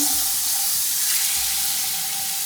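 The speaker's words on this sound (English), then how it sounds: "heat the pan and add some butter. Let the butter melt" Butter melting and sizzling in a heated pan, a steady, loud, even hiss of frying that continues without a break, with no talking.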